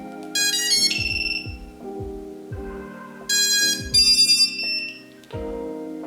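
A sequence of electronic startup tones from the ESCs of an 8-inch long-range drone running Bluejay-style firmware: rising beeps play in turn, followed by higher confirmation chirps, clean and fairly loud with no talking.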